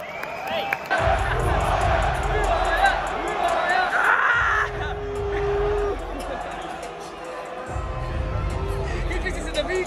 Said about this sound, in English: round of applause for those fighters, come on!